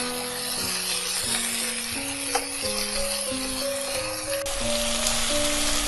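Spices, ginger paste and vegetables fry in oil for a Bengali fish curry with a constant close sizzle, while a stepping melodic tune plays quietly underneath.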